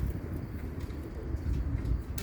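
Racing pigeons coo in a low, muffled rumble against wind noise and faint distant traffic at a young bird race, the soft throaty calls blending into a steady outdoor background.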